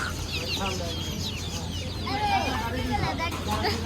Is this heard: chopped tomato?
no